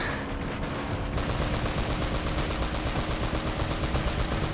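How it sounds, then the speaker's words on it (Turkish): Continuous automatic gunfire in the video game Uncharted: Drake's Fortune: a rapid, steady stream of loud shots that runs without pause for several seconds. "Durmadan sıkıyorum"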